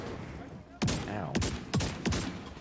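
Bursts of light machine gun fire in The Division 2: Warlords of New York, four short volleys spaced about half a second apart, loud and close, with faint game background between them.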